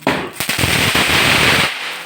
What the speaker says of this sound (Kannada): ಎಲ್ಲ ಪಟಾಕಿಯನ್ನು ಓಡಿಸ್ತಾ ಇದ್ದೇವೆ,